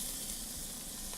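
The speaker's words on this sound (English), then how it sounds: "I'll add just a little pinch of salt and saute them just for a minute or so that they release their aromas." Garlic and jalapeno sautéing with a pinch of salt in a pan over reduced heat, giving a steady, soft, continuous sizzle with no talking.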